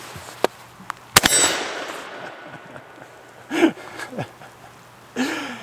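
A Beretta A300 Ultima Patrol shotgun fires a single hand-fed mini shell: one sharp, close report that rings out briefly, with a couple of light clicks before it and a few handling knocks after.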